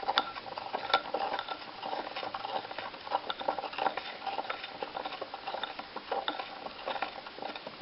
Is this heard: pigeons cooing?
no